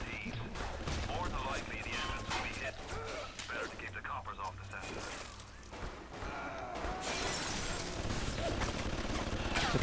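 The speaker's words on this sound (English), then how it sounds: "Turret shooting at me, isn't it?" Automatic turret firing at the player in the video game BioShock, a dense burst of gunfire and crashing impacts mixed with game sound effects over roughly ten seconds, growing louder toward the end.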